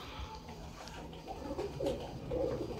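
Wild pigeons cooing in low, soft bursts, the calls swelling toward the end over a steady background hum.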